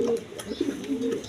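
Peshawari Lahori pigeons give a short burst of close, low cooing, a few rolling throaty notes over a brief stretch, with faint voices in the background.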